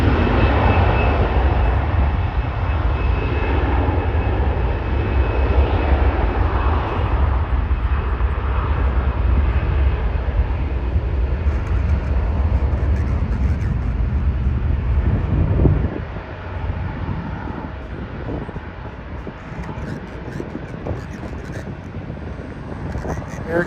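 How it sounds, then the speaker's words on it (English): An Air Canada Airbus A320 bound for Halifax flies past at Toronto's airport with a loud, continuous roaring engine rumble. The roar drops somewhat partway through as the jet moves away, and faint voices sit beneath it. "Air Canada going to Halifax, Airbus 320."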